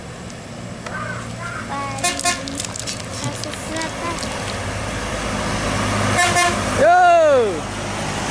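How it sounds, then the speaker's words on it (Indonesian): A tour bus from Padang climbs a hill and passes close by, its engine rumbling before a loud two-tone horn blast near the end, with a man calling out briefly over the roadside traffic noise. "bis pariwisata"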